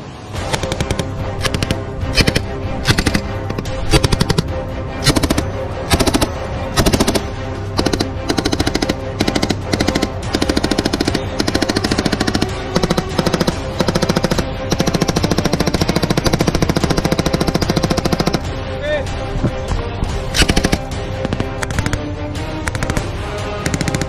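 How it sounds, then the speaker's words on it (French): Sustained automatic weapons fire from French Army mountain infantry (Chasseurs Alpins) at a shooting range in Chad, with rapid bursts and single shots cracking loudly and nearly continuously, overlapping without pause. "Nous partons également pour nos premières séances de tir."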